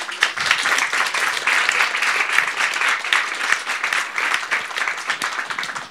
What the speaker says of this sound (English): Could you help join me and give them a round of applause?